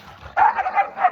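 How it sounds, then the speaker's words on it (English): Dogs bark at a homestead, a short burst of close, loud yips and barks with no talk. "Excuse my dogs being noisy"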